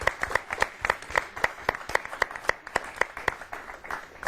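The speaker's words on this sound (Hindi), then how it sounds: "एक बार जोरदार तालियां हमारे इन कवियों के सम्मान में" A studio audience on a television comedy and poetry program claps for visiting poets. The clapping is sparse and rhythmic, with distinct individual claps in a fairly steady beat rather than a dense roar.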